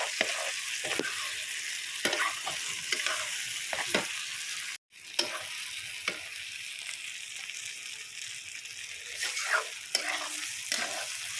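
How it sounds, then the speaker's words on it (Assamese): Goat meat cooks in a large pot over a low gas flame outdoors behind a house, giving a steady soft sizzle with scattered stirring scrapes and clinks and one brief dropout midway. "এয়া ছাগলী মাংস বনাই আছোঁ"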